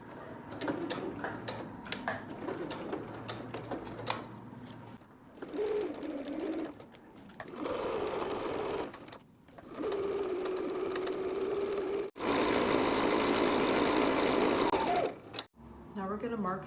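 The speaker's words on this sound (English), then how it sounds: "I'm gonna sew down this whole strap 3 times, once in the center and once on either side." A sewing machine stitches down a tote bag strap at stitch length 3 in three passes, running in close, steady bursts that alternate with a person talking between runs.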